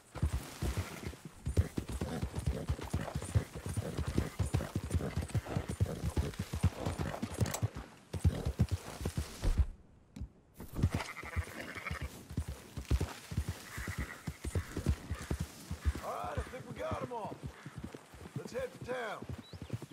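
Horse hooves clip-clop steadily alongside occasional sheep bleats in the Red Dead Redemption 2 video game, with people talking over the herding sounds and a brief gap of near silence midway.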